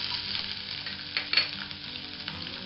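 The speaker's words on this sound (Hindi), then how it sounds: "तेल जब अच्छे से गर्म हो जाए तब इसमें मैं ऐड करूंगी बारीक कटी हुई अदरक" Finely chopped ginger and garlic sizzle in hot oil in a pan, a steady close frying hiss with a few brief louder crackles, no talking.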